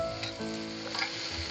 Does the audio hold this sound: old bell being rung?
no